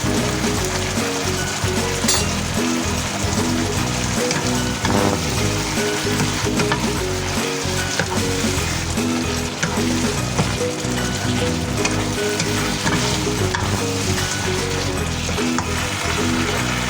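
Shrimp stir-frying in a pan for spicy long beans gives a loud, continuous crackling sizzle with occasional stirring clatter throughout, close up and without any voices.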